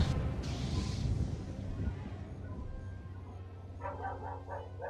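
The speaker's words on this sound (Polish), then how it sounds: "znowu pies szczeka, no ale trudno." A dog barks in the background during a Star Wars The Force Unleashed gameplay session, with a short run of yips near the end over steady game sound.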